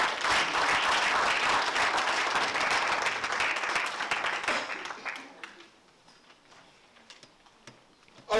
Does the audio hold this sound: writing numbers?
no